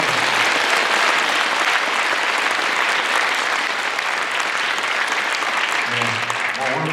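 An audience at a 2023 Korean unification rally's opening ceremony gives a long, dense round of applause. The clapping stays steady and loud throughout, and a voice briefly comes through near the end.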